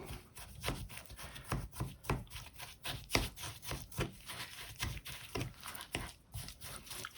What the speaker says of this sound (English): Now we can start mixing.